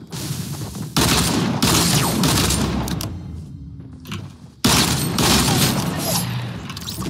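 A hunting rifle fires in a squad battle video game with loud, abrupt blasts at about one, one and a half and four and a half seconds, each rolling into a long, roaring decay, with quieter game noise between.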